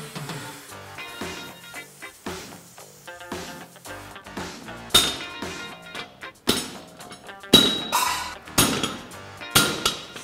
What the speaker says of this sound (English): you let it cool off, and then you just take a punch and you drive it out